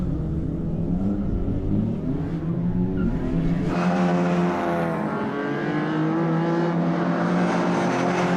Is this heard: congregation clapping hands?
no